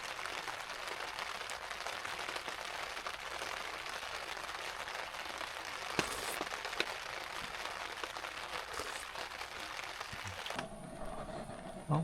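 Rain falls steadily on a campsite in the Rocky Mountains, a constant, fairly faint hiss of drops with no pause and a slight change in tone near the end.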